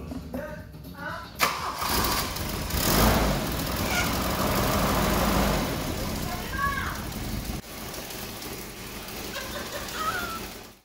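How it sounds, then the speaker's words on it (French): A Volvo 760 Turbo engine cranks and fires up, then settles into a steady idle close by, with a few brief sounds over the running engine. "Remise en route moteur, c'est fait, un petit extrait."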